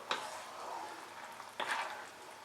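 Vegetable soup topped with spring onions boils over a high flame on the stove, a soft, steady bubbling hiss broken by two quick clinks of a utensil against the pot.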